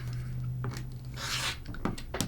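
Rotary cutter slicing through a pieced quilt fabric block on a cutting mat, a single soft rasping swipe in the middle with a few small handling taps around it, close and quiet.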